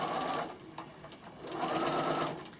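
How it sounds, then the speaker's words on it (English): A sewing machine runs a straight stitch around a single-layer hem edge, humming steadily and close by, swelling into two louder bursts of stitching with a lighter stretch between them. "I just run a straight stitch all around, single layer around the hem edge."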